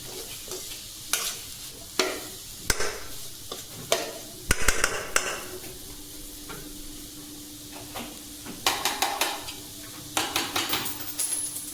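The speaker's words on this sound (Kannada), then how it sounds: "ಮೀಡಿಯಮ್ ಫ್ಲೇಮೇ ಇಟ್ಕೊಂಡು ಚೆಂದಾಗೆ ಹುರ್ಕೋಬೇಕ್ರಿ ಇದು" Grated carrot for halwa is stirred and roasted in a pan over a medium flame, with repeated scraping strokes of a spoon against the pan and a faint sizzle underneath; no one speaks.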